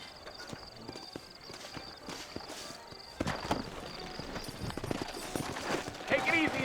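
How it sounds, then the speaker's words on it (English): Horse hooves clip-clop at a steady walking pace on a dusty town street in the video game Red Dead Redemption, soft and close, growing busier and louder toward the end under game dialogue. "You ain't gonna find sturdier horses than these in all of New Austin."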